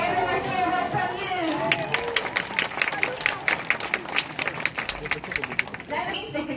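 An audience at a sea lion show in a UK safari park claps and cheers. The loud, fast clapping starts after a presenter speaks and keeps going to the end, with crowd chatter mixed in.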